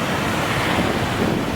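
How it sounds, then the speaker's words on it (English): A small mountain stream and little waterfall in the Tosh Valley, Himachal Pradesh, rush steadily and close by, a dense continuous roar of flowing water with no voices. "It is a stream kind of a place."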